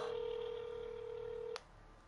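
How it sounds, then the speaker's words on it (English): A single steady telephone tone holds for about a second and a half, then breaks off into a short burst of dialing, close and clear with no talk over it. "I'm just ringing up my partner here now"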